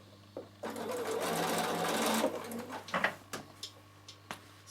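A sewing machine runs a narrow seam on a fabric travel pouch with the needle shifted to one side: one sustained whirring run, then several short stop-start bursts, close and clear.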